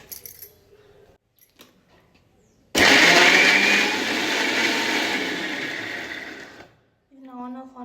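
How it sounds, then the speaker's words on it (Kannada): A mixer grinder blending muskmelon with sugar for ice cream starts abruptly and whirs loudly and steadily for about four seconds, then cuts off, with quiet kitchen handling before and a voice speaking just after. "ನೆಕ್ಸ್ಟ್ ಇದನ್ನ ಗ್ರೈಂಡ್ ಮಾಡ್ಕೊಂಡು ಬಿಡೋಣ."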